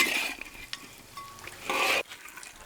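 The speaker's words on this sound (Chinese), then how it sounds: "最後乾煸下椒鹽和蔥調味兒。" Snake pieces dry-fried in a wok with pepper salt and scallions, giving bursts of close, loud sizzling and stirring scrapes that cut off abruptly, with quieter pan noise between.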